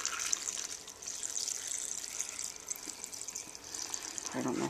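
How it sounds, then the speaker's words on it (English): Water poured into the jar of a Ninja Master Prep Pro blender while making a green drink, a steady close trickle and splash running for several seconds. "I'm going to add some water. And I'm just pouring some water in here."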